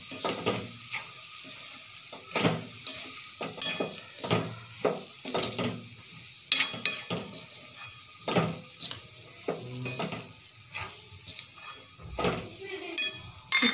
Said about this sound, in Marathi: याला असं परतून घेऊया।